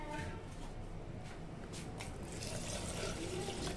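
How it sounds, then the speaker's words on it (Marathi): Water poured little by little into gram flour batter for kadhi, a continuous broadband splashing and pouring sound, fairly close, with some possible faint voice underneath. "मग थोडं थोडं पाणी घालायचं आणि मग परत फेटायचं"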